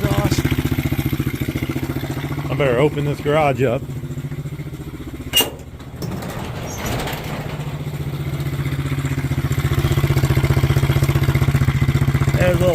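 Kawasaki KLX 110 engine idling with a pinhole in the exhaust, a loud, steady close-up putter with brief clatter and a short pause midway. Someone speaks briefly over it.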